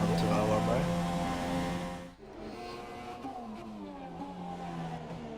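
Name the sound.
race car lap in a racing video game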